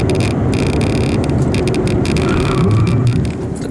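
A modified 2014 Ford Mustang GT 5.0 drives into a corner with some speed: a loud, continuous, close road and engine roar with rattling cabin noise and scattered clicks and knocks.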